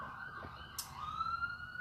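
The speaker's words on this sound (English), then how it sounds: "Lots of ambulances." Ambulance sirens wail faintly in downtown Toronto, a rising and falling tone carried over low city hum, distant and soft.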